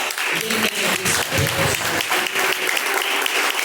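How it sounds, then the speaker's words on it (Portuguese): Loud, dense clapping from a church congregation fills the space continuously, with voices faintly mixed in underneath. "Dá umas palmas, louva."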